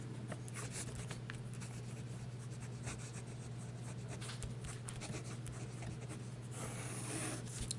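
Platinum Preppy fountain pen writing on paper with a steady soft nib scratching and rubbing, faint and close under a constant low hum.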